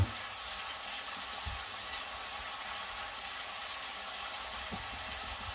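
Egg curry sizzles and fries steadily in a pan, a close, continuous hiss broken by a few soft knocks of utensils, with no one speaking.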